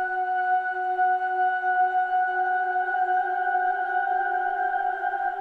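A time-stretched sample layered with added octaves forms a steady, sustained drone of a few pure stacked tones, even and unbroken throughout with no talking.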